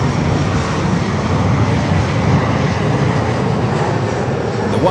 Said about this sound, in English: Delta Airlines flight 747 coming in from JFK, 767-300 ER